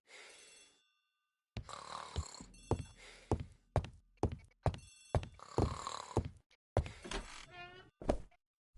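An old-fashioned telephone bell rings in a hallway in The ABC Murders mystery game, sounding as a series of sharp, bright rings in irregular bursts after a short quiet opening, loud and close with no talk over it.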